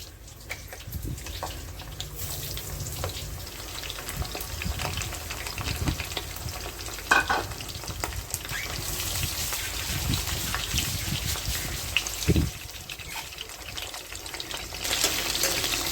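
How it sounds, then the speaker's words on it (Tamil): Marinated squid pieces frying in hot oil for a chilli fry, a steady close sizzle and bubbling running throughout with occasional clinks and stirring, no talking. "ஏற்கனவே மேரினேட் பண்ணி வச்ச அந்த கனவாவை நல்லா பொரிச்சு எடுத்துடலாம்."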